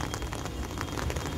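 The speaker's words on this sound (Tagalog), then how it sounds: "Pero as of now, medyo umuulan." Steady rain falls in Kowloon Park, Hong Kong, a constant broadband patter of drops on surfaces and foliage, even and unbroken throughout, with no voices.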